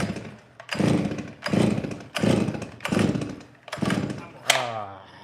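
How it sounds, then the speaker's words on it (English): A flooded chainsaw engine is cranked by repeated pull-starts, each pull a rough sputtering burst in a steady sequence of about six, close by, with voices talking in between. "So now we're gonna fix the chainsaw tonight because Tim flooded it."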